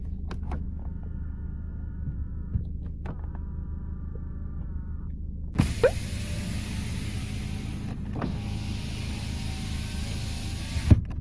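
A used car's electric folding side mirrors whir as they are operated. Two short motor runs sound close in a quiet cabin, followed by a louder rumble with clicks.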